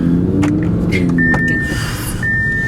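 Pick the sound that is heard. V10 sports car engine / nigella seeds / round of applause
V10 sports car engine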